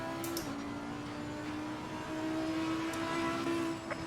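An Audi race car in an online racing video game crosses the final corner to the finish, its engine droning steadily with shifting pitch under a constant mixed game soundscape.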